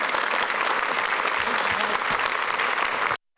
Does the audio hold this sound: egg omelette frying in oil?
no